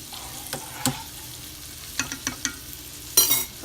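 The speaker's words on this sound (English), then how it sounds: "now you see it's boiling, so just stir it a little bit" A spoon stirs boiling orange chicken sauce in a pan, giving a few scattered scraping clinks and light bubbling sizzle, close and fairly quiet.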